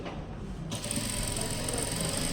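A sewing machine stitches fabric in a tailoring class, running in a loud, steady, close mechanical whir with a fast even needle rhythm.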